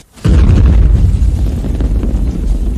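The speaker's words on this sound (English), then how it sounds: "I guess it was a bomb" A bomb goes off in a low-budget spy action film, a sudden heavy boom that erupts after a brief quiet and rolls on as a loud, sustained rumble with debris-like crackle.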